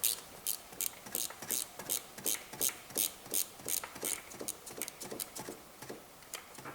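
A ratchet spanner loosens a bolt on a BMW 3 Series engine, a close, fast, even series of sharp clicking bursts in repeated strokes, with no voices.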